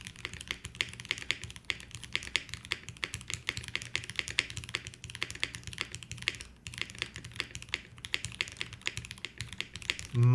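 Rapid, steady typing on a Tofu65 2.0 mechanical keyboard, with dense clacky keystrokes close to the mic and no voices.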